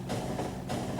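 Trains rolling through an outpost in the video game Factorio, a steady low rumble with faint rail clatter that carries on loud and unbroken throughout.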